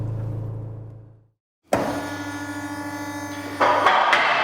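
An electric car ramp lift whines and hums steadily as it raises an MK7 Golf R, starting with a jolt after a short pause and getting louder near the end.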